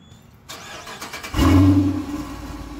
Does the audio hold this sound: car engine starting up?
yes